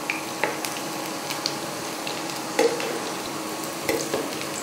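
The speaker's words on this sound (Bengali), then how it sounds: "এবার ভাজা হয়ে গেছে, গোল্ডেন কালার করে ভেজে নিয়েছি। এবার তুলে নেবো।" Chicken pieces for Chicken Manchurian fry in oil with a continuous close hiss of sizzling, broken by a few light clinks and stirring scrapes, with no talk.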